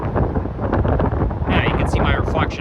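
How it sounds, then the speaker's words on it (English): Strong wind buffets the microphone outdoors on a walk through a North Etobicoke neighborhood, a constant loud low roar with gusty bursts throughout. "it is very, very windy"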